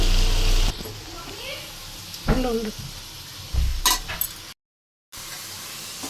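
Green chilli chicken curry with a coriander and green chilli masala paste bubbles and sizzles in a pot, with stirring scrapes and a few clinks of a spoon against the pan, heard up close.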